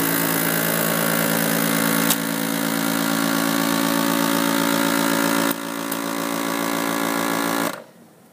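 A FoodSaver vacuum sealer pumping air out of a bag, a loud steady motor drone with a constant hum that shifts slightly partway through, then cuts off abruptly near the end.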